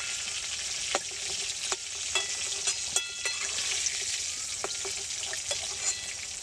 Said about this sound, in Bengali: পটলগুলো বেশি ভাজা যাবে না, একটু হালকা করে ভেজে নিতে হবে।